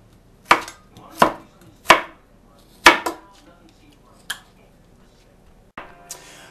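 Knife chopping carrots into slivers for a stir fry in a home kitchen: a handful of sharp, separate thwacks on a cutting board at an uneven pace, close and clear, with short pauses between strokes and no talk.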